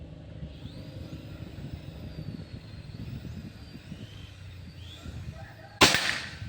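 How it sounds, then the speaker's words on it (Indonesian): A single sharp shot from a Pajero Gun Gen 6 air gun rings out near the end, the fifth in a row of accuracy test shots, after several seconds of low outdoor rumble. "Tembakan ke 5. Terakhir ini ya"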